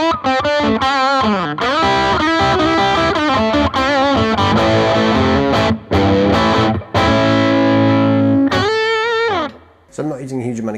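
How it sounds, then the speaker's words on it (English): An electric guitar overdriven through an Analog Man King of Tone pedal at modest gain plays a busy run of chords and single notes, loud and close, with short pauses between phrases and a final ringing chord. "So here is the overdriven sound that I'm using."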